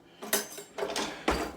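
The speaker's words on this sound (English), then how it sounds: "you want to get a big slotted spoon, and you want to stir" A big slotted spoon stirs a garlic and herb turkey brine, producing three quick bursts of metallic clinking and scraping against the container, close by and alone.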